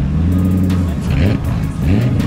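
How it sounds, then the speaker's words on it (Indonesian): A safety car's engine at a drift event in Indonesia, revving loudly and close with rising and falling tones, brief throttle lifts between pulls, and crowd-level background noise. "Nah, ini mobil safety car-nya guys."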